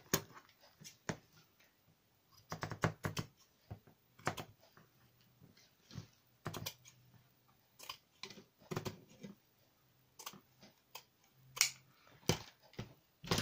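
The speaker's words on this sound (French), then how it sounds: "Donc, je vais couper la même bande à peu près." Scissors snip through a strip of paper in a scattered series of sharp, close clicks and cuts with pauses between, quiet and alone in an otherwise hushed room.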